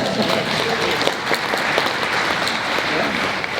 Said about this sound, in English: Round of applause for that one, please.